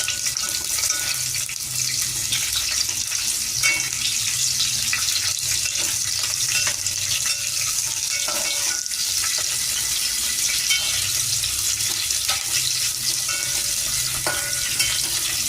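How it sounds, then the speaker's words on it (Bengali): Seeded chilies fry in hot oil in a home kitchen, giving a steady, loud, crackling sizzle that runs without a break, with faint clinks and stirring beneath it. "লঙ্কাটা ভেজে নেব।"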